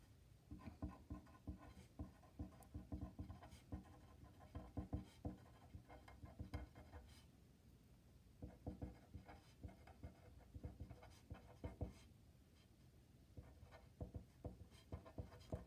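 During a lecture, a pen scratches across a writing surface in faint, quick strokes with short pauses, quiet and close throughout.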